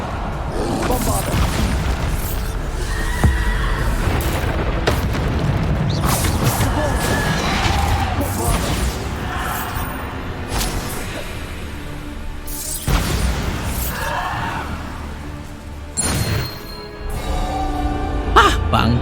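Bombarda spell blasts in Hogwarts Legacy, several booming explosions and crashes scattered through a noisy combat scene with whooshes, under frequent talk from a player.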